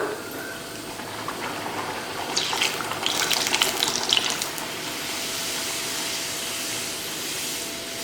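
Poori dough dropped into hot, well-heated oil for frying gives a steady bubbling sizzle that swells louder for a moment midway before settling back into an even hiss.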